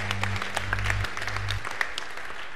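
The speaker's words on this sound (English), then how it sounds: "we can clap for that for sure." A church congregation claps in a short burst of scattered applause, with a low sustained keyboard tone underneath that stops partway through while the clapping goes on.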